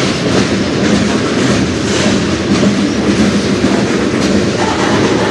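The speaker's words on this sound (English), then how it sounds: "Or it's just another really short train." Loud, close rumbling of a short CN train passing on the Strathroy Sub, with constant wheel clatter and rolling noise that holds steady from start to finish, no speech.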